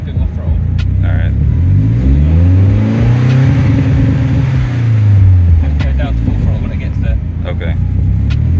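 BMW E30 with a turbocharged M42 engine revving on a dyno, a loud sustained rise and fall in pitch over several seconds with occasional sharp pops, voices talking faintly over the engine.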